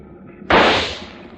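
A single sharp rifle shot fired at a shark in an old radio drama, a sudden loud burst that decays quickly into a short echoing tail.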